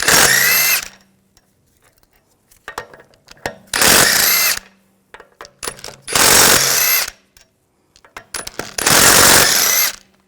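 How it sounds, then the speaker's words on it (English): An impact tool fitted with a 17mm socket spins out the lug bolts on the rear wheel of a 2006-2010 BMW 550i, firing in four loud separate bursts with quiet gaps between them. "I'm going to remove the wheel, use a 17mm socket, take the lug bolts out."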